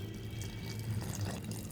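Water pours into a pot of sambar that already holds tamarind extract and sambar powder. The pouring is soft, steady and splashy, fairly faint, and no one speaks.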